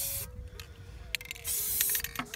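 Spray paint can hissing in broad bursts for hydro dipping, several sprays of varying length with a long continuous burst near the end; close and fairly loud, with a person speaking briefly between sprays.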